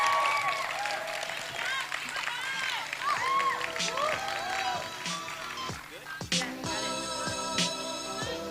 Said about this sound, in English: everybody please make a big round of applause for Shanay Salas